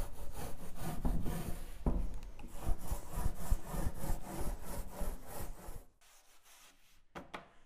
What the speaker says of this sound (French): Je procède maintenant au ponçage intermédiaire. Je le fais avec un grain fin, 180 à 220